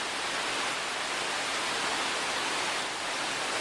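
Afternoon rain pouring down in Costa Rica, a continuous broadband wash of falling drops, unbroken and fairly quiet from start to finish.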